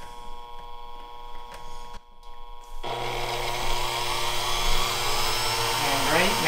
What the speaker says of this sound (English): as soon as I hit the reset button, the motor will turn on a few seconds afterwards